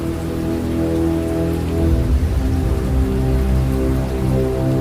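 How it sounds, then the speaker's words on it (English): Heavy rain falls steadily, a dense continuous hiss of drops hitting surfaces at an even, loud level throughout, with no voices. "Soon heavy rain began to fall on the whole earth."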